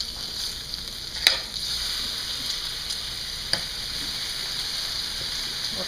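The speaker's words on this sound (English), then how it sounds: "Let's see if our bacon is just about ready over here." Bacon fries in a pan with a steady, close sizzle and two brief sharp clicks from utensils.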